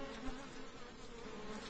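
Honeybees swarm and buzz agitatedly while a hive is opened to add a super, a dense, steady, close drone of many wings filling the whole moment without pause.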